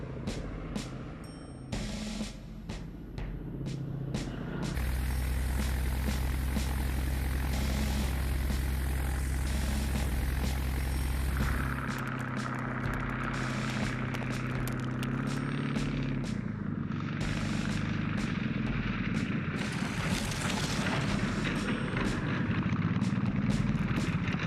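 A cartoon aircraft engine drones loudly and steadily in flight, its pitch and tone shifting partway through, with a few sharp sound effects at the start.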